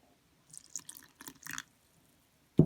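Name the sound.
pouring warm water into sourdough starter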